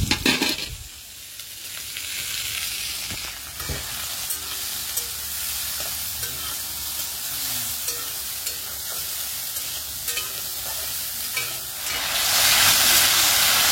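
Soybeans fry in hot oil in a kadai with a constant hissing sizzle and occasional stirring scrapes. The sizzle swells louder near the end. No voices.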